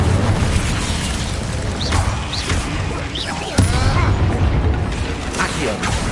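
Hogwarts Legacy spellcasting, an Incendio fire spell bursting with a whooshing blast over a dense, loud game soundscape, with sharp impacts and brief rising swooshes throughout.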